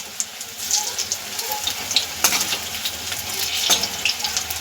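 Cauliflower and ridge gourd fritters fry in hot oil with a steady crackling sizzle and small bursts of bubbling, close up and moderately loud.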